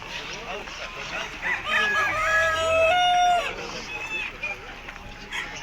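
A rooster crows once at a pigeon and poultry market, clear and fairly close, its drawn-out call rising and holding over faint background chatter and outdoor noise.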